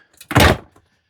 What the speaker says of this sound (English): This door, unhook this and it slides